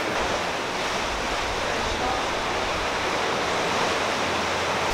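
Rough sea on a windy evening in Mallorca produces a continuous, loud hiss and roar of breaking surf, steady throughout without talk.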